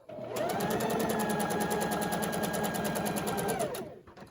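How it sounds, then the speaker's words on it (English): Close, loud rapid stitching from a sewing machine sewing fabric strips on the diagonal for a Christmas table runner, one continuous burst of several seconds that starts and stops cleanly. "I'm just going to pivot, line it up to the needle, and sew it on the diagonal"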